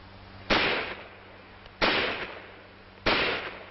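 A carbine rifle fires three loud, sharp shots spaced more than a second apart, each with a short decaying echo over low background hum.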